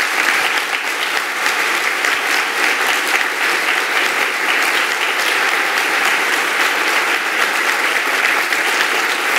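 A university audience at the Universidad de Los Andes applauds Bogotá's mayor Enrique Peñalosa, a loud, dense, sustained round of clapping from a large crowd that holds steady without pause.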